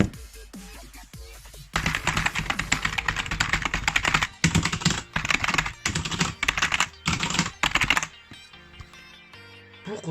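Fast typing on a Zoé Lab Case Telegram mechanical keyboard, dense clattering keystrokes in several bursts separated by short pauses, close and crisp.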